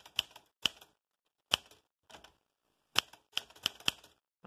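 Crisp mechanical keystrikes from a typewriter, irregular and spaced out, some in quick pairs, with silence between them.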